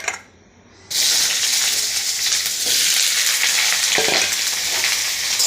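Boiled jackfruit pieces hit hot oil in a home kitchen pan, a loud continuous sizzle bursting in after a brief quiet moment, with occasional stirring scrapes through the frying.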